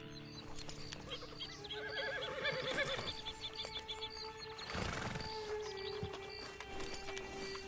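A horse in the western video game Red Dead Redemption whinnies loudly and snorts, with hoof clip-clops and a second neigh midway, heard close and clear amid game ambience.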